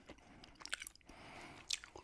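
Gum chewed close to the microphone in an ASMR whisper recording, giving soft wet smacks and crunchy bites in an irregular rhythm, quiet and intimate with no talking.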